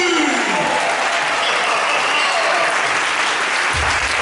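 A church congregation at a Sunday service applauds and cheers in acclamation of Jesus, a dense, steady burst of clapping filling the whole stretch at close range, with voices mixed into the crowd noise.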